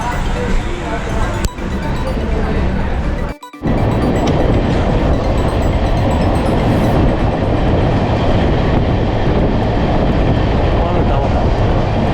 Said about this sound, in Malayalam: संपर्क क्रांति एक्सप्रेस प्लेटफॉर्म क्रमांक 1 पर आ रही है।